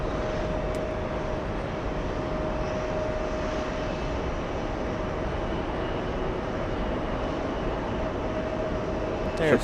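A Finnair Airbus A330 airliner produces a steady, moderately loud engine rumble, with faint radio-style voices in the background.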